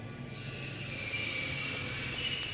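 A Newport subway train in The Longest Journey adventure game rumbles along on a steady, humming track with a faint metallic whine, heard at moderate volume throughout.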